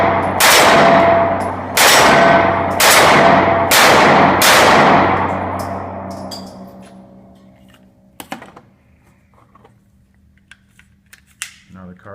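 A Kahr PM9 pistol fitted with an extended magazine fires four loud, sharp shots at roughly one-second intervals, each ringing out and decaying, followed by quiet clicks and handling noises.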